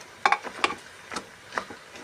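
Mutton frying with tomato ketchup in a pan, with about five short spatula scrapes and taps, fairly close, over a faint sizzle.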